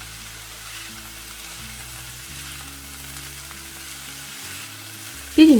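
Cabbage pie filling with black pepper, coriander and bay leaves frying in a pan, a steady soft sizzle running throughout, ending in a brief louder clatter.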